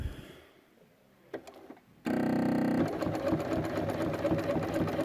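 A sewing machine fitted with a number 72 ruler foot stitches ruler work, starting abruptly after a few soft clicks and then running steadily and loudly with a rapid, even mechanical rhythm.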